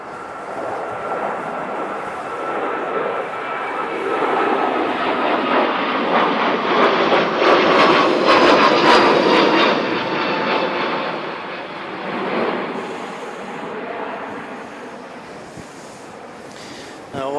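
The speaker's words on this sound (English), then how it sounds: "No doubt this will be a steep takeoff" An airliner climbing away on a steep takeoff at Christchurch Airport with possible crosswinds, a broad jet roar that swells to a peak midway then slowly recedes into the distance, mixed with wind rumble on the microphone.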